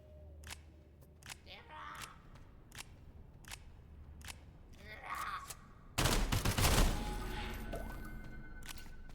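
A California compliant firearm fires a few sharp shots between softer clicks and handling noises, then a louder burst of gunfire with a long, rumbling echo fades away outdoors.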